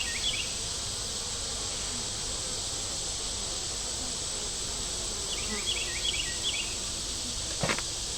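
Agitated honeybees drone steadily around an opened hive, a dense close buzz with a few higher whines rising over it and a brief sharp knock near the end.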